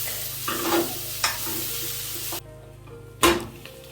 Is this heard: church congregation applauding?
no